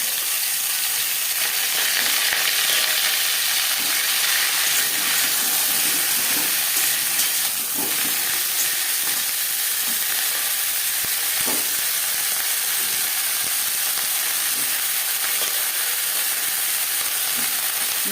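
Cauliflower sizzles in a hot pan of oil for a vegetarian potato, cauliflower and paneer dish, a steady close frying hiss that runs throughout with faint stirring clicks scattered through it.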